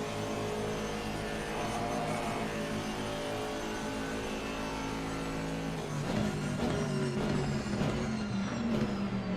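An Aston Martin V8 race car at Spa in a sim racing 24-hour event drones in an onboard view, a steady buzzing engine tone that shifts pitch partway through as it changes speed.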